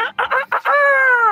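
A rooster crows loud and close: several short clucking bursts lead into one drawn-out, ringing crow, with no talk over it.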